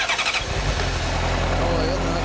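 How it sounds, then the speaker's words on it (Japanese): A 2006 Honda CBR600RR sport motorcycle with stock exhaust cranks briefly and fires up, then settles into a steady, close idle rumble. "もうエンジンを聞かせてもらえる？"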